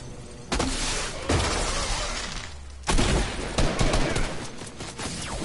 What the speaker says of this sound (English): I'm getting shot at by real peeps.